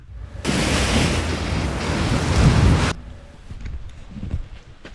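Hurricane storm audio with a loud, steady roar of heavy rain and wind for a few seconds, then cutting off abruptly to quieter background rumble.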